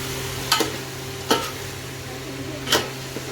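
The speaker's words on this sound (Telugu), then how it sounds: "సో తర్వాత మనం మంచిగా ఆయిల్లో కలుపుకోవాలన్నమాట చికెన్." Chicken with its gravy stirred in hot oil, three distinct scraping strokes of the spoon against the pan over a low, steady sizzle, with no talk.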